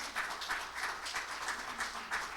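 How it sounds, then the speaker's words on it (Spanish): A church congregation applauding the Lord during a Spanish-language service: a soft, continuous wash of clapping from many people, heard at a distance, with a faint rhythmic pulse running through it. "Den un aplauso al Señor"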